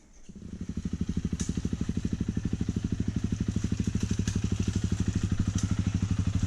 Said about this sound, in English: just taking Kev's bike down for him